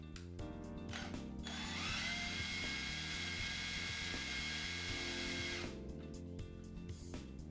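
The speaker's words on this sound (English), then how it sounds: "Using my cordless drill with the shaft coupler adapter" A cordless drill with a shaft coupler adapter turns a ball screw on a Grizzly G0704 CNC mill conversion, whirring steadily for several seconds with a brief start and stop around it, loud and close, with no talking.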